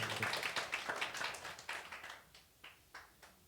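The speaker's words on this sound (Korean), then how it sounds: "박수 한번 쳐줍시다" A short burst of scattered clapping from a church congregation during a sermon, fairly faint and distant, tapering off into a few separate claps.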